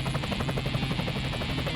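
Black Hawk helicopter hovering during a sling load operation, a loud, steady rotor thump and turbine whine filling the whole clip up close.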